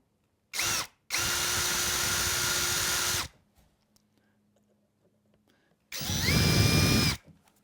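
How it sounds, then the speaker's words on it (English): A power drill pre-drilling holes in plywood whirs loudly in two bursts, spinning up, running steady for a couple of seconds, then winding down, with a quiet pause between. "Now you definitely want to pre-drill in the plywood."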